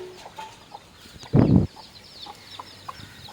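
Native country chickens and chicks cluck softly in a yard, with scattered quiet calls and one louder burst of clucking near the middle.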